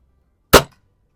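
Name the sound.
shot from a vintage Remington Vantage 1200 .177 break-barrel air rifle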